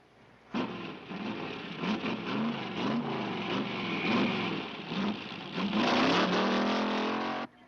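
A car approaches and drives past on a road, its engine rising loud and near, revving and shifting pitch over several seconds before cutting off, with no talk over it.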